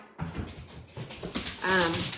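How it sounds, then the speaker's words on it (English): A pet dog whimpers and yips indoors in a home, a few thin high whines rising and falling close by, with a voice partly over them. "Sorry about the dog."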